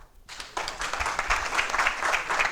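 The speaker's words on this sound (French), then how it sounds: "On peut l'applaudir." Applause breaks out at a gathering honouring a football club president, starting suddenly after a brief quiet and continuing as a dense, steady clapping from a fairly close crowd.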